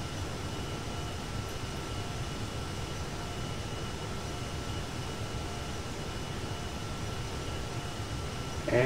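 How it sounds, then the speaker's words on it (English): Steady, even roar of an Airbus A350-900XWB jet engine flying over Los Angeles in GTA 5, a constant airy drone with no breaks or talk. "the engine sounds so good"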